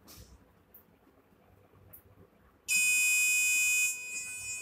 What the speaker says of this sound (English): the buzzer sounds an alarm letting us know that the surface is level.